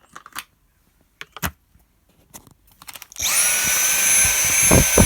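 A Dyson cordless vacuum switches on partway through, running on low with a steady whine and high tonal hum, after a few quiet clicks and handling noises.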